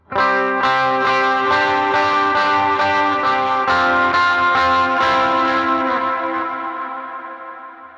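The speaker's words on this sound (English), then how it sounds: "I can really dig in to get it to sound more driven." Overdriven electric guitar plays a run of ringing, gritty notes, picked harder as it goes, then the final chord decays slowly into silence.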